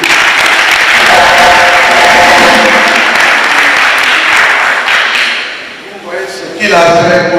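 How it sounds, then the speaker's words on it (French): An audience applauds at a PDCI-RDA party gathering where transporters make donations to the Muslim community, loud dense clapping that swells and then thins out, with voices mixed in. "Applaudissez-le."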